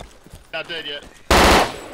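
Rapid automatic gunfire from a shooter video game, a short burst breaking in loud and close after a quiet stretch with brief voice-like sounds.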